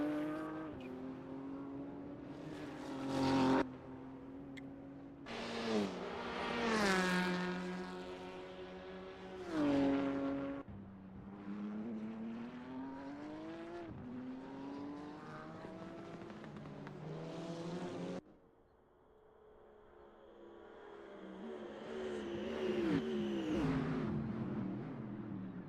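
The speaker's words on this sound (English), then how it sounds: "It's pretty crazy what sort of speeds these TCR cars can pull in that straight." TCR touring race cars at the NLS endurance series scream down a long straight. Several engines rise and fall in pitch as cars rush past one after another, moderately distant and without commentary.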